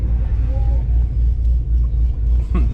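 A cammed fifth-generation Chevrolet Camaro Z/28 V8 idling with a loping, choppy rhythm, a steady close low-end throb from the exhaust with an uneven pulse throughout.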